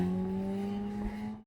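A Renault Korea Grand Koleos 2.0 4WD pulls away as the auto hold releases, giving a smooth, steady low engine hum close by that fades out abruptly after about a second and a half.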